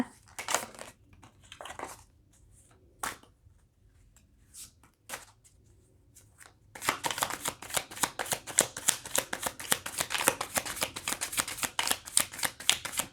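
Tarot cards are shuffled by hand in a quiet room, first in a few scattered flicks and taps, then in a long, dense run of quick riffling snaps close to the mic.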